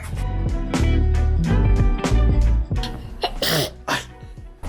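A single sharp sneeze bursts out near the end, close and loud, over a busy background of music-like tones.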